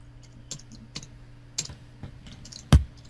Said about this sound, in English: Oh, you're typing it?